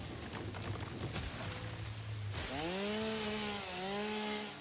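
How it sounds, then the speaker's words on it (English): Chainsaw in the video game Satisfactory, a steady low motor drone that suddenly revs up into a loud, rising and falling whine with a brief dip near the end, close and alone with no talk. "I love this chainsaw."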